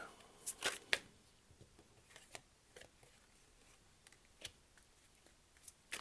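Tarot cards being shuffled and handled, faint papery flicks and soft snaps spaced irregularly, with a couple of sharper riffles near the start, in a quiet room.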